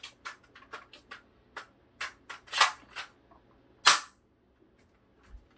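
BB gun shots ring out as a string of sharp, irregularly spaced pops, a few much louder and closer than the rest, with quiet gaps between them.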